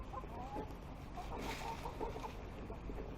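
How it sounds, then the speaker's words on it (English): Chickens clucking softly in an indoor hutch area, several short murmuring clucks scattered across a quiet, low-level background. "Chickens can hang out in here for a little bit."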